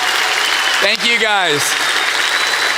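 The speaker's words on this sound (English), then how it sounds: "just clap really loud so we can actually see them" A banquet audience at the Touchdown Club applauds loudly and continuously, with someone briefly speaking over the clapping partway through.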